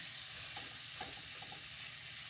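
Pork pieces fry in a pan ahead of the garlic and onion, giving a steady close sizzle with a few soft clinks of stirring and no voices.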